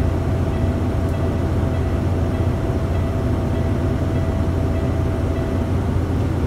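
Truck engine held on the throttle while the air compressor builds brake pressure toward the governor cut-off, a steady low rumble running throughout at moderate level with no speech.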